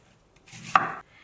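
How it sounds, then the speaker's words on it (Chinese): A knife makes a single crisp chop through a peeled, juicy sweet pear on a board, a brief close thud with a short rustle around it in otherwise quiet surroundings. "切成小块"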